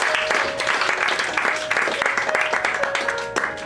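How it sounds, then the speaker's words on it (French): An audience at an evening poetry reading in a bar claps for a poet, a dense burst of applause that carries on steadily and fairly loud for several seconds, with some voices mixed in. "On l'applaudit, mesdames et messieurs."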